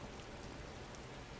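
Steady rain falling in Disco Elysium, a dense even hiss of drops on surfaces with no breaks, moderately loud and alone.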